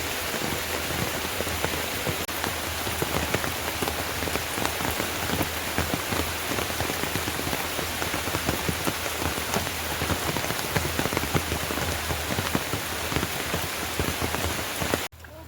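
Heavy rain pours down on a farm, a dense, loud, unbroken patter close by that continues with no break until it cuts off at the very end.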